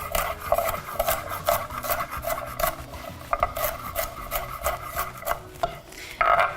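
A knife roughly chopping a ball of gathered garlic cloves on a cutting board, giving a steady series of close, scraping and tapping strokes with no talk.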